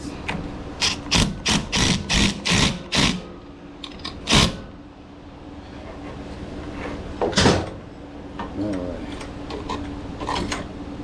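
An impact wrench hammers the variator nut on a Yamaha Vino scooter in short rattling bursts, with a rapid string of loud, close impacts first, then a few isolated hits and light mechanical clatter.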